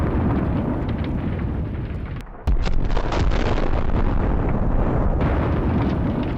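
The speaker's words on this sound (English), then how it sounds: "The flames reach the ammunition, and a strong explosion turns the equipment into ashes." Ammunition inside a Russian APC cooking off after an FPV drone strike: a sustained, roaring blast rumble, distant and wind-buffeted, that dips briefly, then resumes with a sharp, louder burst and continues heavily.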